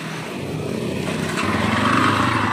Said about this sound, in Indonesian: Nah, ini kita lihat dan kita dengerin dulu mesinnya suaranya kayak apa.